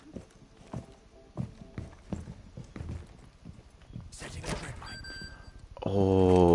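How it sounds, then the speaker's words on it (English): Footsteps in a video game, apparently on stairs, thud in an irregular series of soft, close steps, followed by a burst of bright tonal game effects near the end. "You're hearing a lot of footsteps at the stairs."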